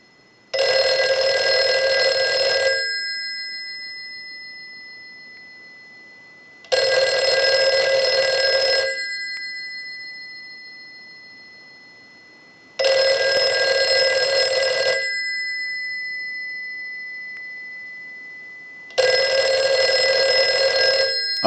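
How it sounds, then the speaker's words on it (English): A Western Electric 302 rotary dial desk telephone on the repair bench rings its bell in four loud, close bursts of about two seconds each, separated by roughly four-second pauses of silence, with no talk. "use the analyzer and send a ring cycle like you were getting a call"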